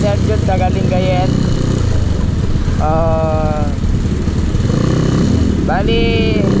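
Motorcycle engine running steadily and loud throughout, with someone talking over the constant drone on a couple's ride.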